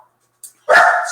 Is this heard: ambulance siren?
no